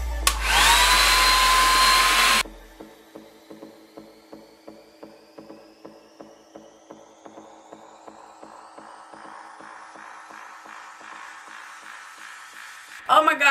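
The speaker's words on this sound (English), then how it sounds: "blow drying short hair" A hand-held hair dryer blow-drying short hair blasts loudly at close range for a couple of seconds, then cuts out, leaving a quieter steady whir with soft regular ticking.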